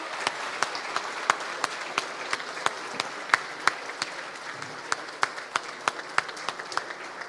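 A lecture hall audience sending off a geopolitics speaker with applause: sparse, distinct claps at a steady rhythm over quiet room noise, fairly soft and distant, lasting several seconds.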